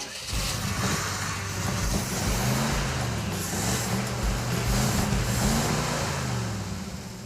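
Ford Ranger engine with a new high-performance ignition coil, running steadily with a low throbbing rumble close by, its pitch wavering slightly as it idles.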